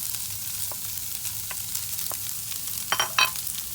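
Shrimp and eggs sizzle in a frying pan, a steady crackling hiss with occasional louder pops and scraping stirs near the end, heard close.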